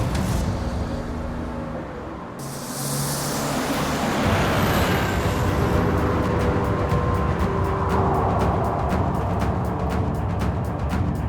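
Car driven along a road, its broad engine and tyre roar steady and close, with a rhythmic ticking pattern in the later part and no talk over it.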